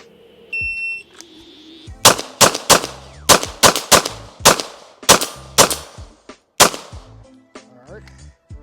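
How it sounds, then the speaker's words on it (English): A Walther PDP Steel Frame Compact pistol fires about eleven loud, sharp shots in an uneven string, each crack distinct with brief gaps between, after a short electronic beep at the start. "We'll give it a full mag this time"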